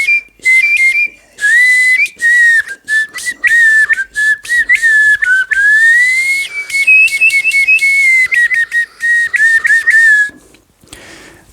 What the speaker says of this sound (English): I call it the palate whistle lip warble.